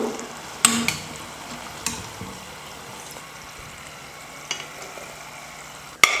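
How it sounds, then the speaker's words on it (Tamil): Fried wheat-flour sweets dropped into sugar syrup and stirred in a kadai, with a few sharp clinks and scrapes of a spoon over a soft continuous background, no voices. "இப்போ நம்ம கடாயிலேருந்து எடுத்ததுமே நம்ம ரெடி பண்ணி வச்சுருக்கிற சர்க்கரை பாகில் சேர்த்துடணும்."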